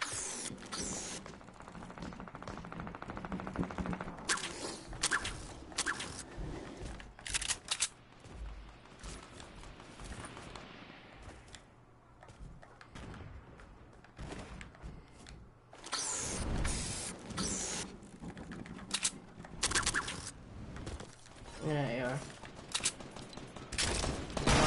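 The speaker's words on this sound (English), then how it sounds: "Oh, I just got shot, bro." Bursts of rapid gunfire in a console shooter game, coming in clustered volleys and isolated shots with quieter gaps between, loud and close.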